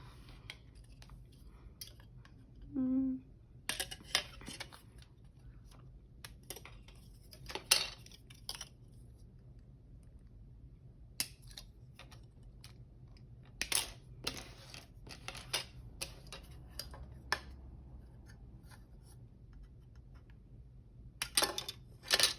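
Scissors snip out cut pieces for assembling a model monster truck bed, giving sparse, brief crisp cuts scattered over a quiet background, with clusters near the start, middle and end.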